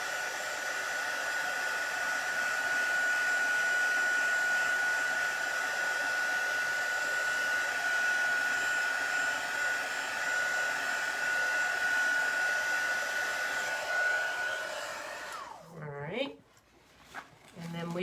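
A hand-held hair dryer blows steadily and loudly on a chalk transfer for about fifteen seconds, its high whine constant, then cuts off, leaving brief shuffling and handling noises.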